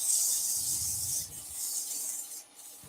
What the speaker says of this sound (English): let's sand that up